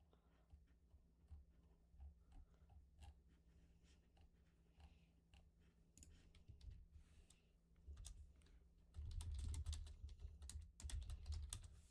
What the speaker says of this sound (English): You guys can hear my keyboard.